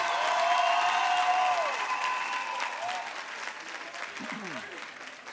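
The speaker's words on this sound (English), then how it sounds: "please give another round of applause to the class of 2026." Applause and a cheering crowd at a school graduation ceremony for the class of 2026, a full sustained roar of clapping that slowly fades, with voices and a whistle-like tone riding over it.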